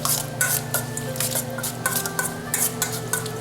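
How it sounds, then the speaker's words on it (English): An artichoke appetizer with roasted peppers is tossed in a pan, with a soft sizzle underneath and a quick series of rhythmic scraping, clattering bursts of food and metal, close and clear. "And now we give it a little toss."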